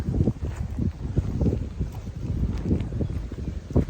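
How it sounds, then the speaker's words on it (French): Loud, buffeting wind noise rumbles across the microphone throughout, gusting and thumping with no voices. "il y a trop de vent, vous n'allez pas m'entendre"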